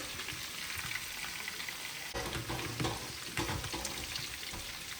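Kebabs fry in a pan in a home kitchen with a steady, close sizzle of hot oil, a continuous crackle that swells slightly at moments, and no voices over it.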